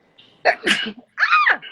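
Someone sneezes close to the microphone, a sharp burst followed by a second quick, bright exhale, with no talk during it.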